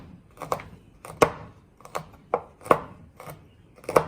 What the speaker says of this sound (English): Our chocolate has been chopped